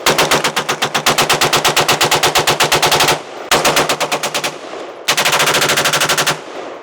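A $349 semi-automatic rifle is bump fired, very loud and close, in three long rapid strings of evenly spaced shots that sound almost fully automatic, separated by brief gaps.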